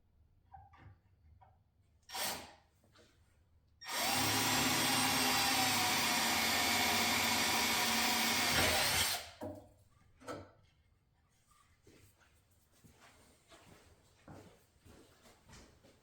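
A small power drill with a 3/32-inch bit whirs steadily for about five seconds, flanked by a few quieter clicks and handling knocks before and after.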